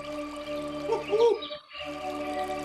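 Birds sing in an Enchanted Meadow nature recording, giving a few clear chirps and a gliding whistle over a steady tonal hum, with a brief dip into quiet partway through.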